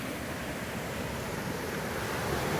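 River in Trinityville running high after a flood, a steady broadband rush of flowing water, constant and moderately loud, with no voices.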